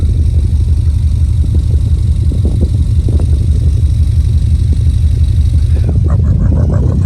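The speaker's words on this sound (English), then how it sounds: "So, the exhaust sounds great." Exhaust note of a 2004 Subaru Impreza 2.5RS with a stainless exhaust, a loud steady low idle rumble with a sharper rev burst near the end.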